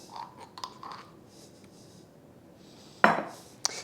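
A soup spoon scoops whole grain mustard into a sauce in a quiet kitchen: a few soft scrapes, then a sharp clink of metal on the bowl and a lighter tap shortly after.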